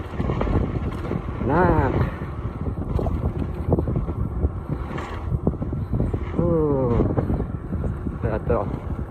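Wind rushing past a cyclist coasting downhill on a long road ride, a steady broadband roar that fills the whole passage, with a voice talking over it at moments.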